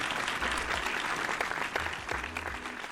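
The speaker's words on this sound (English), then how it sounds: "Let's have some applause there." Applause on a Formula 1 podcast, a steady wash of clapping with occasional low thumps underneath, running throughout.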